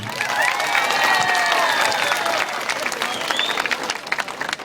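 A crowd at an outdoor political rally in Erdek claps loudly and continuously, with scattered cheers and whistles rising over the dense patter before it thins out near the end.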